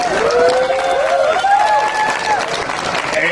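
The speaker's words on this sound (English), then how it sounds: "Please give Craig a round of applause for all his good work." A rally crowd at a state capitol, gathered for LGBTQ+ protections, gives Craig Pulser loud, steady applause with scattered cheers and raised voices mixed into the clapping.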